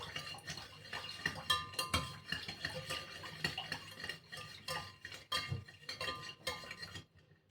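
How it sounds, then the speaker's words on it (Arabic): A spoon stirs chocolate kahk cookie dough with powdered sugar in a bowl, giving a close, steady series of scraping clinks and soft rhythmic stirs against the dish, with no talk. "هنقلب كده شويه"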